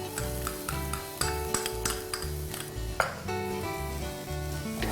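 Garlic paste, finely chopped celery and onion sauté in a little olive oil in a pan, with a light sizzle under frequent close clinks and scrapes of a utensil against the pan, and no one speaking.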